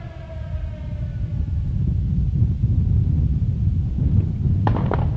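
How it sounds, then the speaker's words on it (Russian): A blasting warning siren sounds at the Shakhtau limestone quarry near Sterlitamak, a wavering tonal wail that fades away over a continuous low outdoor rumble. "Вот сейчас звучит боевой сигнал, который извещает о начале взрывных работ."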